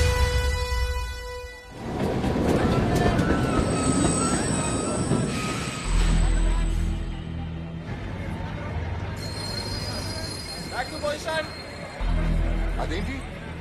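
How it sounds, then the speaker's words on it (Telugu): A train in a Telugu film scene rolls backward with loud metallic wheel squeal and grinding rail clatter throughout, close and sustained, with people talking over it. "అదేంటి ట్రైన్ వెనక్కెళ్తుందేంటి?"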